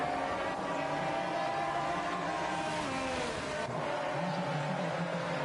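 Race cars on a warm-up lap in a racing video game, a steady blended engine drone with pitch shifting as the cars accelerate and ease off, held at constant loudness with no talk.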